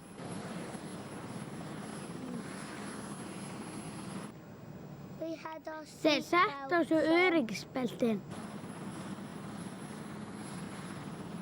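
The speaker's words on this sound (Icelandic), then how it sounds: "Það heyrist hátt í þyrlunni." Cartoon helicopter engine and rotor noise, a loud, steady whirring drone that cuts out for a few seconds while someone speaks, then resumes just as loud.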